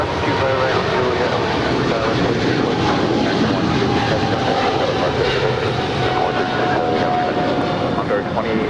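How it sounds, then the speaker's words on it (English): American Airlines Boeing 777-300ER departing LAX for London Heathrow, a loud continuous engine roar that fills the scene throughout, with a voice talking over it. "That is American 136 departing to London Heathrow. It's a 777-300 ER."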